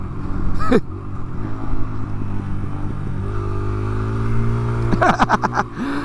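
A small motorcycle revs up and pulls away, its engine note climbing and falling across several gear changes. It is loud and close, with no talking.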